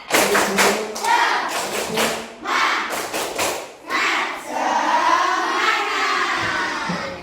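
Classroom pupils perform the Indonesian "tepuk semangat" clapping routine: loud, sharp group claps in a patterned rhythm, followed by the children chanting and shouting together.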